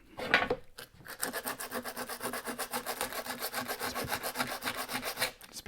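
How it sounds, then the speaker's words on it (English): A piece of 80 grit sandpaper is rubbed over aluminium angle in quick, even strokes, a close, fairly quiet scratchy rasp repeating steadily for about five seconds after a brief knock at the start. "a piece of sandpaper from over here will do this. A little bit of 80 grit."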